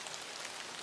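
Rain falling as a steady background hiss, a soft even patter with no distinct drops standing out, faint and continuous throughout the brief moment.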